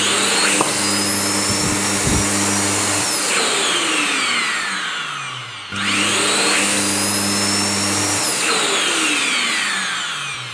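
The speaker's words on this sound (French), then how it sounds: "avant de remonter l'aspirateur, le bloc moteur, je m'assure que ça fonctionne bien." A Rowenta Silence Force 2200W vacuum cleaner motor block, bench-tested before reassembly, whines up to a steady loud roar, winds down briefly, then spins up again and runs on alone.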